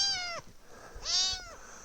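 A little kitten gives two clear, high meows with a short pause between them, close to the microphone in a quiet setting.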